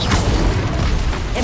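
Incendio fire spell cast in the video game Hogwarts Legacy, a loud, dense whooshing burst of roaring flame that fills the short moment alone.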